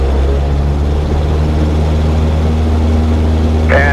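A light propeller aircraft's engine drones steadily and loudly inside the cockpit with a constant low hum, with flaps up on approach to land at Riverside.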